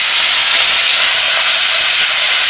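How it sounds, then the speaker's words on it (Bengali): Reserved hilsa fish oil goes into a hot pan with a loud, continuous, close hiss that holds at an even level throughout. "এবার তেলটা আমি ঘাটে দিয়ে দেবো"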